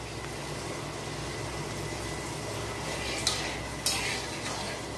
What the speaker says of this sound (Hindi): इसको धीमे धीमे आंच में भूनेंगे बेसन को।